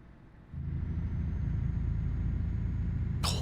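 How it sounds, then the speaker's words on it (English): A heavy truck engine in the game TruckersMP starts up and idles with a deep, steady rumble, then a sharp hiss of air bursts out at the end. "the engine sounds good"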